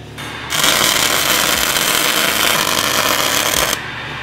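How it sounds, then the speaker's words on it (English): Welding the seam where the weld yoke meets the bushing on a Toyota Tacoma driveshaft: a loud, steady crackling hiss that starts abruptly, runs for about three seconds and cuts off sharply. "Then I'll go ahead and weld that."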